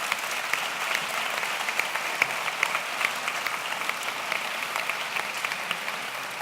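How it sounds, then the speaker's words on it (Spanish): Steady audience applause at a commemorative gathering marking the 80th anniversary of the Ezkaba prison escape, a dense crowd of clapping hands sustained evenly and at moderate distance, with no talking over it. "yo pido un aplauso para ellos, para Enrique y para los Barricada."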